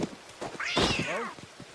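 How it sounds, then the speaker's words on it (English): A cat in a video game gives a single clear, drawn-out meow, close and fairly loud, rising then falling, with light background noise around it. "Is that a cat?"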